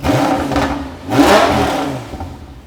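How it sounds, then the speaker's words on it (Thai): A car engine with its exhaust valve open revs loudly with a raspy exhaust, two quick surges climbing and dropping back, close and aggressive. "อันนี้คือเสียงเปิดวาล์วนะครับ"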